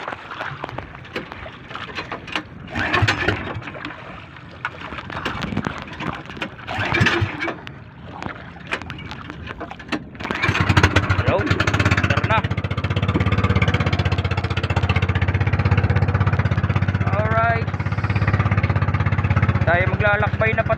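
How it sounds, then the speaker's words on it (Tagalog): A small fishing boat's engine starts up and settles into a loud, steady chugging drone after people talk over wind and movement on the boat; speech continues faintly under the running engine. "Try na natin ito, ating makina."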